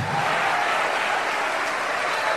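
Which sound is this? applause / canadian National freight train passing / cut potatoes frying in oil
applause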